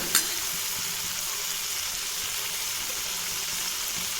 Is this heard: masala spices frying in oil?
yes